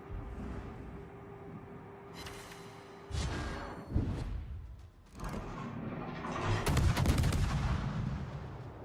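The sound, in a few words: naval gunfire at a ship in World of Warships video game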